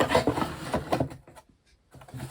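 A small wooden drawer slides into a compact DIY mini storage unit with a dry, scraping wooden rub lasting about a second, then a brief quiet and a faint knock as it settles.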